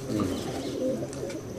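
Pigeons coo softly at close range, producing a few low, rounded calls over quiet background rustle, with no one talking.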